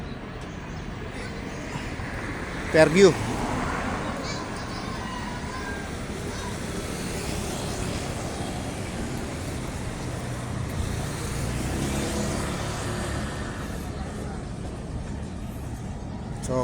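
Traffic rumbles steadily at the Nova Stop bus terminal in Fairview, with buses and cars passing and a brief sharp burst near the start, while a person talks over the street noise.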